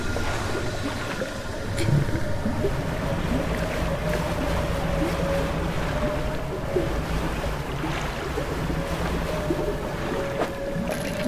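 Steady droning boat engine in the fishing game DREDGE, holding a constant hum with a slight surge as the boost kicks in, mixed with water wash and light wind throughout.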